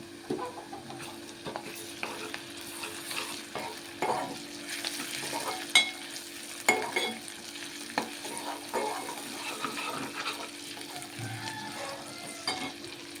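Onions frying with ginger garlic paste and fenugreek powder in a pan, a steady close sizzle broken by repeated scraping and knocking stirs throughout, with no talking.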